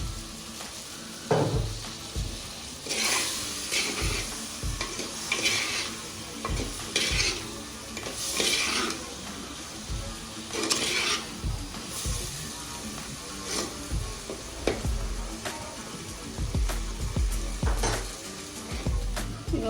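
Brinjal pieces fry in oil for a tamarind curry, hissing softly under repeated scrapes and clinks of a ladle stirring against the metal pan.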